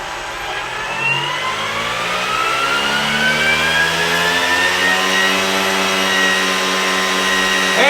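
Small electric RC motor on a Castle Creations speed controller spooling up from idle to flight RPM, a loud, close whine that climbs steadily in pitch and holds high, with no voices.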